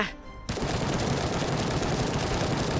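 A full magazine emptied in one continuous, loud automatic burst in a Black Hawk Down war video game, starting abruptly after a brief quiet moment and hammering on without pause.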